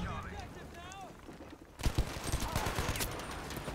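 FG-42 rifle bursts in a Battlefield V desert battle, with a rapid run of sharp shots starting partway through and continuing loud, following a stretch of quieter game ambience with some voice-like tones.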